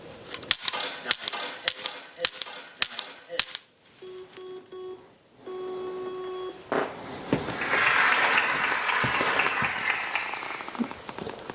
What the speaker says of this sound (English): you're going to be shooting from 4 yards, 5 shots